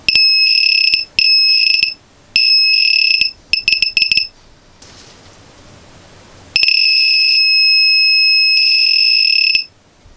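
A homemade Arduino metal detector beeps at a coin in bursts of loud, steady electronic tones, several short beeps in quick succession, then a pause with faint noise and a long sustained tone.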